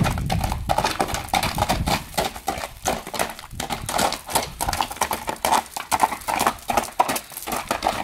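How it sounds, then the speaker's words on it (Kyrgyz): A big horse's hooves clip-clop in a steady, brisk rhythm for several seconds, close and fairly loud with no voices over them. "Чоң ат экен бирок."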